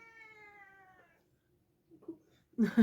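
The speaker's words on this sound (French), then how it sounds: "vous allez entendre Nifi pleurer parce que elle réclame" A hungry cat meows for food, one long drawn-out cry up close, followed after a pause by softer sounds and a loud burst at the end.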